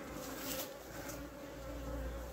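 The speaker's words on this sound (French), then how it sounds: "Là il y a un frelon qui essaie de chasser" A hornet buzzes as it hunts around beehives, its steady drone close and continuous beneath a busy hum of bees in the dry summer air.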